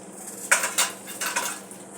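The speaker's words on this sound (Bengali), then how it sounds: "এই বাটিগুলোর মধ্যে আমি কপিগুলো বসিয়ে দিলাম" Cauliflower pieces are set into small oiled bowls, producing several distinct clinks and taps of crockery and utensil, fairly close and spaced apart over a low steady kitchen hum.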